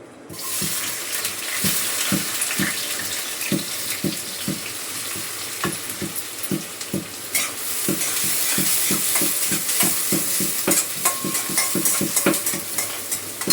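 Onions frying in a little oil in a kadhai, a steady sizzle with rhythmic stirring and scraping strokes repeating about every half second, loud and close, no talk.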